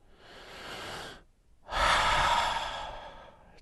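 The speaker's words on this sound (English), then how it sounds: "Deep breaths. Focus on your breathing." Two slow, deep breaths close to the mic, a long airy exhale followed by a pause and then a fuller, louder breath that trails off softly, with no talking.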